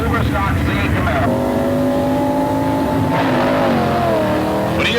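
A Superstock C Camaro drag race car revs in the Indianapolis Raceway Park pits, its engine rising and falling in loud, close pulls, with a narrator speaking over the engine noise.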